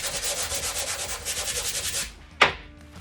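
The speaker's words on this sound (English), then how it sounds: "Or you can get a block of wood and you can wrap your sandpaper around the wood" Sandpaper wrapped around a wood block is rubbed back and forth over a cabinet in steady, rhythmic strokes, followed by a pause and a single sharp scrape near the end.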